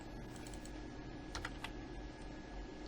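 Steady clicking of fingers on a computer keyboard while a program for an Arduino Uno servo motor is being entered, the keystrokes quick, close and fairly quiet, with no voices.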